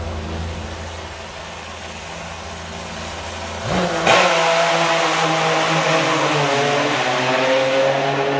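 A three-cylinder drag racing motorcycle, the Rocket, runs at a summer nationals drag strip: a loud engine drone abruptly jumps up in pitch and volume partway through, then keeps revving hard and bright.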